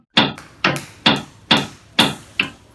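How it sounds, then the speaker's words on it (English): Six sharp hammer blows land one after another at an even pace, each a loud, close strike that fades quickly before the next. "That was hammering."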